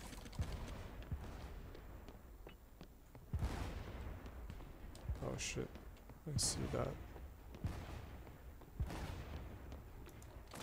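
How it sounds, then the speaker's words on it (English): Distant gunshots and cannon booms in the pirate game Blazing Sails, scattered thumps and cracks spread through the stretch, mostly under steady voice chat. "I hear gunshots."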